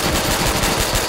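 An automatic gun in Call of Duty: World at War fires in a fast, loud, continuous burst of rapid shots.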